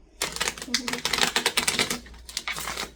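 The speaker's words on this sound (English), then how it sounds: "let's cleanse this deck with an infinite shuffle." A tarot card deck being shuffled by hand, a long run of rapid riffling card flutters and snaps, close and fairly loud, with brief pauses between bursts.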